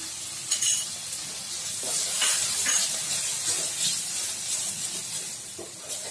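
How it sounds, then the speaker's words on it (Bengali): About 25 grams of poppy seeds fry in a hot pan with a continuous low hiss, broken by scraping stirs and small crackling bursts, close by with no talking. "পোস্তটা দিয়ে একটু ভাজা ভাজা করে,"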